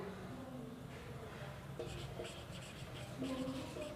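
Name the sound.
writing by hand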